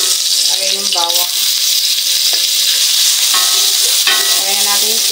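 Garlic sizzling as it hits hot cooking oil in a pan already holding ginger, for a miso catfish sinigang; steady frying hiss throughout with brief stirring clatter and a voice speaking over it.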